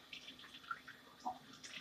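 Tap water runs quietly into a sink while a face mask is rinsed of soap suds, a faint steady trickle with small splashes and drips, with no one speaking.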